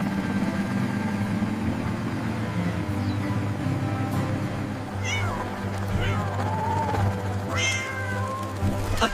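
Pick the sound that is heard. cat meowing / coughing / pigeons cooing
cat meowing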